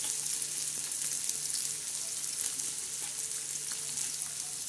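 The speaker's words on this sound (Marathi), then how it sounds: "आता हे तेलामध्ये आपण जो कापलेला कांदा होता तो कांदा असा टाकून देणार" Chopped onion fries in hot oil on a tawa, giving a steady, continuous sizzle with no voices, even and fairly close throughout.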